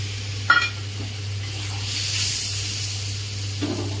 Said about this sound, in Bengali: একটু গরম জল দিয়ে দেবো। গরম জল দিয়ে দিলাম।